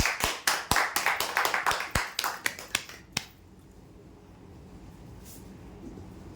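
An audience at a weekly prize draw event claps in a quick, uneven burst of sharp handclaps that thins out and stops after about three seconds, leaving quiet room tone.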